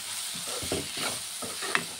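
A spoon stirring salt through food frying in a pan, soft scraping strokes over a low sizzle, close and moderately quiet, with one sharp clink near the end.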